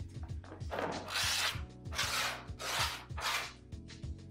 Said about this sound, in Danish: Så tager du din fil eller dit jernrør, eller hvad du har. Filer rundt i kanten.